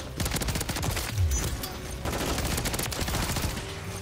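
Sustained rapid-fire bursts from a BP50 rifle in the Modern Warfare 3 video game, loud and close, with steady rattling shots broken by a brief pause midway.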